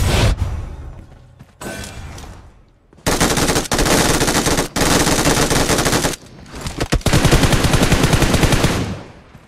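Rapid bursts of machine gun fire in the game PUBG Mobile rattle loudly in several long strings, separated by short pauses and quieter mechanical sounds.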